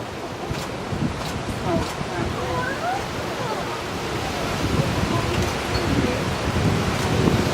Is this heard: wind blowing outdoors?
yes